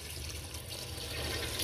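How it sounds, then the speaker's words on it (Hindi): Water is poured into a cooking pot of potato and mutton curry, a steady, soft rushing and splashing that continues evenly without pause, fairly quiet and with no talking. "कप पानी शामिल करेंगे"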